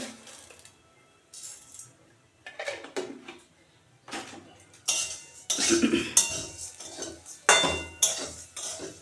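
Flattened rice (chira) being stirred in a pan with salt and sugar, a spoon scraping and clinking against the metal in uneven bursts, close and fairly loud, with no voices.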